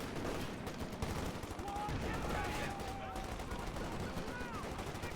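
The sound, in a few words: gunfire in Company of Heroes 2 video game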